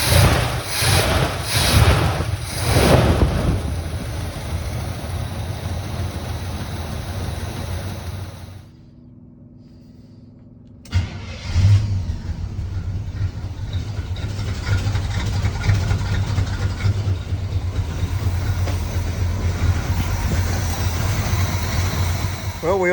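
1979 Chevy Scottsdale truck engine idling, a steady rumbling idle heard up close, interrupted by a brief drop to near silence before resuming, with a person talking over it.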